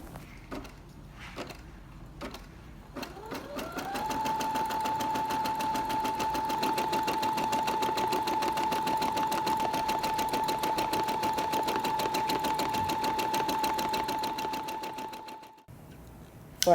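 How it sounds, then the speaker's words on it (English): An embroidery sewing machine stitches a quilt, starting with a few clicks before winding up into a steady, fast, high mechanical whir that holds for about eleven seconds and then stops abruptly. "Choose the selected pattern from the machine. And then start with the embroidering."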